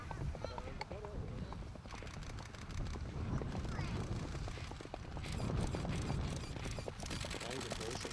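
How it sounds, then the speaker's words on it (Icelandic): Hooves of a chestnut Icelandic horse clip-clop steadily under a noisy outdoor show crowd with constant background din and talk, the rhythmic footfalls running through the whole stretch. "Hér kemur rauður hestur"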